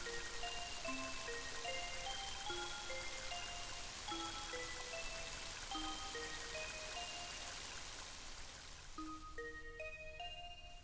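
Steady rain ambience in the video game Mother 3, a continuous soft hiss heard throughout with scattered melodic game music notes playing over it.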